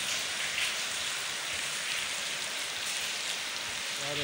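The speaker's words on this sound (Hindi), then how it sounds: "बहुत ही तूफानी बारिश" Torrential storm rain in a village falls in a thick, constant roar of drops striking surfaces, steady and close throughout without any speech.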